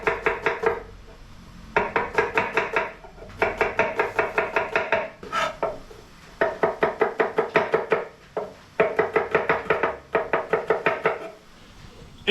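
Knife chopping pickled cucumber into pieces on a cutting board, close and crisp, in fast runs of rhythmic strokes separated by brief pauses, no talking.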